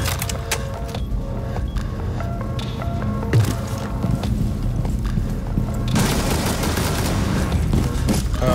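Rapid semi-automatic DMR rifle fire in a tactical video game, a dense continuous barrage of loud, close shots with sharp cracks and booming tails, growing even heavier in the last few seconds.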